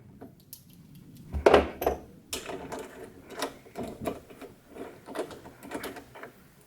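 The roller cover on a Lawn-Boy mower with capstan drive rollers being removed, with close metallic clanks, ratcheting clicks and rattles of metal parts in an irregular series, one louder clatter near the start.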